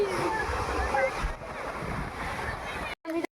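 Wind gusts buffet the air beside a river swollen to flood after rain, a rough rumbling roar with watery wash, while someone talks over it before the sound cuts out briefly.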